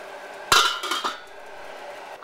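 A metal lid set onto a pot of simmering butternut squash curry, one loud clanging clink followed by a few softer rattles as it settles.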